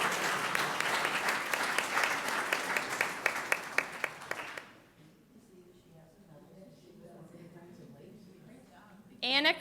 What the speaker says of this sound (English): we can just go ahead and clap them all the way up here